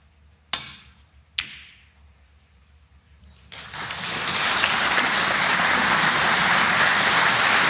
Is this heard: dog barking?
no